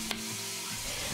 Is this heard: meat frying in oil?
yes